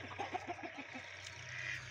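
Young chicks, forty days old and of an original breed, cluck and peep repeatedly in a coop, with short rhythmic calls close to the listener over a steady farmyard hum.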